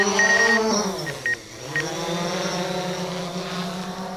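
A camera drone flies close by with a steady, high, whining propeller hum that dips in pitch briefly and then holds steady, heard alone without talk.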